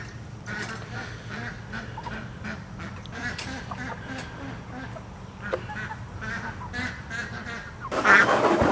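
Ducks honk and quack near a grassy pen where meat birds are being moved, with a loud burst of flapping or squawking at the end and someone talking quietly under the birds.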